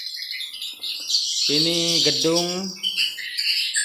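Swiftlet lure calls play from an Audax 65 tweeter inside a swiftlet building in East Kalimantan: continuous high, shrill chirping and twittering, with someone speaking briefly over it.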